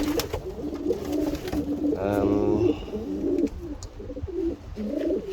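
Racing pigeons in a loft give soft, repeated cooing calls in rhythmic bursts, close by and steady across the clip, mixed with some background sounds.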